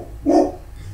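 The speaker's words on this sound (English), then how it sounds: "We have neighbors. The dog's going crazy." A neighbors' dog barks in one short, fairly loud burst at middle distance over steady background noise.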